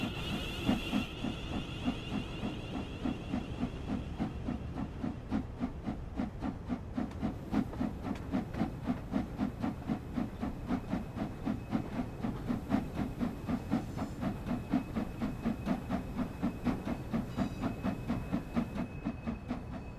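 A TP 350/4 steam locomotive in Train Sim World 6 on the West Coast Main Line hisses steadily alongside a rapid, rhythmic chuffing and mechanical clatter, loud and continuous, with a brief high whistle-like tone at the start.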